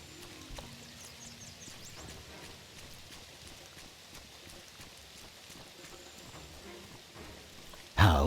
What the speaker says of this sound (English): Rain sounds so cool.